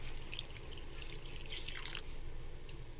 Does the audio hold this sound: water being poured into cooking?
yes